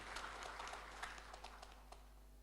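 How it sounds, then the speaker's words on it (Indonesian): Applause from a crowd at a NasDem party event in Banten, greeting a speaker; faint, steady patter of clapping hands at a distance for a couple of seconds, with no talk. "Tepuk tangan buat kakak."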